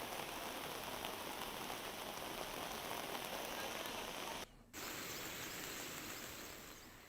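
Heavy overnight rain pours in a dense, steady hiss with a brief dropout near the end, continuous and fairly close.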